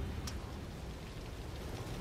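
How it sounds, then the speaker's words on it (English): Rain falling in The Evil Within on PS5, a steady soft hiss of downpour with a brief brighter splash near the start, continuous and even with no voices. "Yeah, I love rain effects in the game."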